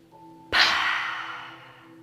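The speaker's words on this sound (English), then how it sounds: "deep breath in through the nose" A deep, slow breath drawn in through the nose during a mindful yoga session, a close, airy rush that swells suddenly and fades gradually over a low steady hum.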